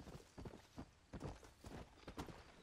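Horse hooves clip-clop in a steady walking rhythm in the Western video game Red Dead Redemption on Xbox One, fairly close with soft dull thuds and no talking.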